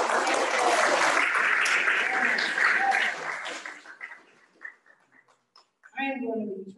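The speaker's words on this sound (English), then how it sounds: "give yourselves a round of applause" A keynote audience at a 2021 Red Ribbon Event claps together in a full, close burst that thins and fades after a few seconds. A lone voice then starts talking as the room goes quiet.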